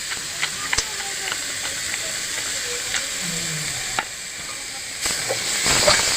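Cashews and peanuts going into thick carrot halwa in a hot pan, a steady sizzling hiss with light stirring scrapes and a few small clicks from nuts dropping in, close and continuous with no talk.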